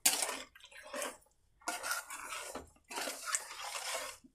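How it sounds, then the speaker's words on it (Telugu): Warm water is poured into a pan of green chicken curry in three quiet bursts of splashing and pan clatter, close up and fairly soft. "ఒక గ్లాస్ 1/2 గ్లాస్ నీళ్ళు వేస్తున్నాను"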